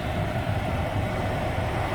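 Cabin blower fan in a 2017-2022 Honda Pilot running at high speed, a steady loud broadband whoosh with a low rumble underneath, constant throughout with no talking.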